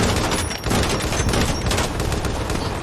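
Sustained gunfire fills a film scene in which vehicles are ambushed on a street, a dense, loud barrage of overlapping shots and bursts running unbroken throughout with no pause.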